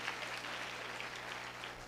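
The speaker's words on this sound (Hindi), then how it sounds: "हमारे बच्चे के लिए जोरदार ताली बजाओ।" Applause from a church congregation for a child who recited memorized Bible verses, a steady wash of clapping that stays fairly soft and even throughout.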